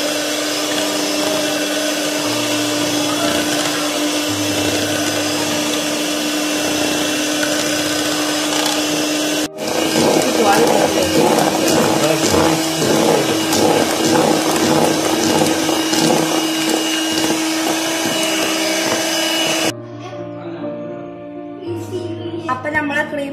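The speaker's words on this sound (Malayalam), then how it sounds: "1 കപ്പ് വിപ്പിംഗ് ക്രീം ഒഴിച്ച് കൊടുത്തിട്ടുണ്ട് ഇനി നമുക്ക് നല്ല ബീറ്റ് ചെയ്തെടുക്കാം" Electric beater whipping a cup of whipping cream for a chocolate cake, a loud steady motor whine with rattling beaters, changing pitch midway and stopping near the end.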